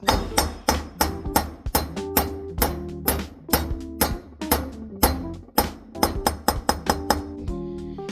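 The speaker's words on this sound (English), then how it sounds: "I'm going to hammer down this little insert" Repeated metallic hammer strikes drive a small insert down on a V-twin engine, about a dozen sharp ringing clinks with short decays, delivered in an uneven rhythm and heard close and clear with no talking.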